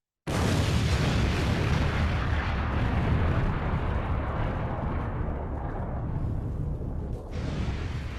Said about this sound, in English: So Dracula gets an explosion.